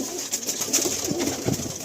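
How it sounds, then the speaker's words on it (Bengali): Pigeons coo softly and repeatedly in a loft, a steady murmur of several birds close by with a faint airy hiss behind them. "দাদার একটা পুরাতন কালো পায়রাও দেখতে পাচ্ছি এখানে"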